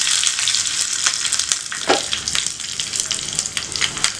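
Urad dal, curry leaves and a chili crackle and sizzle in hot oil for a home-made yam chutney tempering, a close, steady frying hiss with bursts of popping and stirring.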